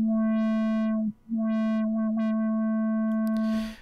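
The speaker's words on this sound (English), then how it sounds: "So we'll choose 24 low pass, LP, add a bit of distortion so it sounds cool" Rob Papen Blue2 synthesizer patch run through a 24 dB low-pass filter with added distortion: a steady buzzy tone whose brightness sweeps open and closed repeatedly, with a brief dropout near the middle and a noisy burst at the end.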